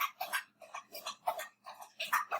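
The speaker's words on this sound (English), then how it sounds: "it's my dog getting a drink of water" A dog drinking water indoors, a close, rhythmic series of wet lapping splashes, about five or six quick laps with short pauses between them, alone.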